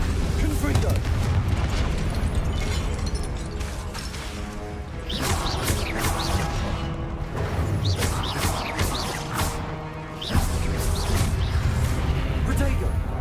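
Confringo spell blasts in the Hogwarts Legacy game rumble and crash in dense, loud bursts over a constant background of combat effects and music.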